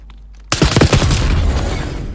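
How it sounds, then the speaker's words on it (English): An impact grenade in the game Warzone detonates after a brief quiet, a sudden loud blast followed by rolling, crackling debris and rumble that stays strong to the end. "Impact grenade thrown."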